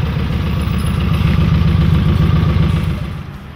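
Motorcycle engine idling close by with a steady, throbbing mid-pitched rumble that holds evenly before easing slightly near the end.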